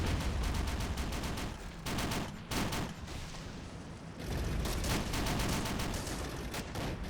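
Dense, continuous gunfire from US forces in a North Africa invasion war video game: rapid overlapping bursts and volleys, loud and close, with a brief lull midway before the firing swells again.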